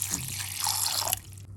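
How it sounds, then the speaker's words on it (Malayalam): Cold water pours into raw mango juice in a short, close splash for a second or so, then cuts off abruptly. "ഇനി നമുക്ക് നല്ല തണുത്ത വെള്ളം ഒഴിച്ച് ഇതൊന്ന് അടിച്ചെടുക്കാം."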